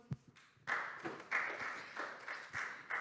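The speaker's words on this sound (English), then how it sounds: "Big round of applause one more time." A modest audience at a cryptography conference talk claps after a speaker, beginning with a few isolated claps, then rising into a light, uneven round of applause from a fairly small crowd with repeated swells.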